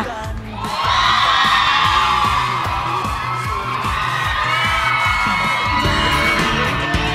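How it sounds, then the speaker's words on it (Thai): A loud crowd at a fan meet-and-greet erupting in screams and high-pitched cheers that holds steady for several seconds, with rhythmic music thumping underneath. "ถ้าพร้อมแล้วขอเสียงกรี๊ด ดังๆให้กับ"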